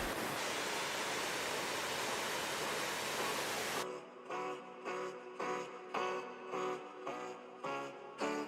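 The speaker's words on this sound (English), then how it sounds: "The waterfalls begin just after the Ölfusá River makes a perpendicular turn and then cascades down a 3-step staircase into a canyon" Gullfoss waterfall on the Ölfusá River plunging down a three-step staircase into a deep canyon, a loud, steady broadband roar that continues unbroken before cutting abruptly to quieter sounds.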